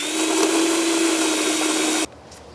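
A power drill bores a 3/8-inch hole for tail light wiring on a Grand Design Momentum 376TH fifth-wheel, a loud steady whine lasting about two seconds before stopping abruptly.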